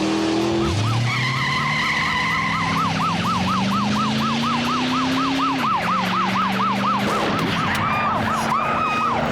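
A car in a police chase screeches and skids while its engine revs and rises in pitch, with a wailing siren warbling continuously over the loud, close roar.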